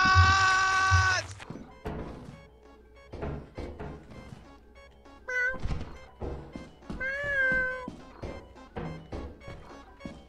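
A cat meows several times in a gameplay setting, drawn-out tonal cries recurring across the stretch amid thumps and other game sounds, fairly close and clear.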